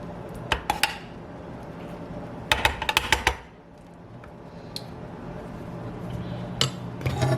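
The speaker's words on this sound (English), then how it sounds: "we're just spooning the avocado in the food processor" Avocado is spooned into a KitchenAid food processor, making quick clusters of bright metallic clinks and knocks against the bowl, loud and close, separated by quieter stretches of kitchen room noise.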